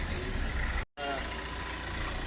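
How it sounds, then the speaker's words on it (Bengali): A road vehicle, likely a truck or bus, rumbles past nearby on a rainy day, a steady low engine drone broken by one brief dropout, with no clear talk over it. "গাড়ি যাচ্ছে"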